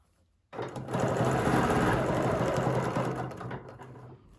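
After a brief quiet moment, a sewing machine starts stitching a quilt along quilting rulers, a close, even motor hum with fast rhythmic needle chatter for roughly three and a half seconds, then winds down.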